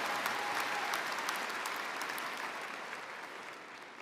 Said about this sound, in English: It's a big round of applause for those guys.